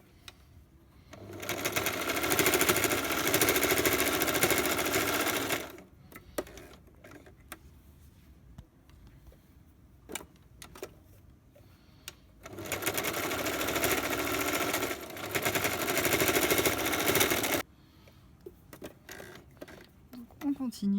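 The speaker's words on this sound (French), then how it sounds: "Donc on continue pour finir le dernier trait de couture." A sewing machine runs in two sustained bursts of steady stitching on a washable cotton face mask, with quiet pauses and small handling noises between runs.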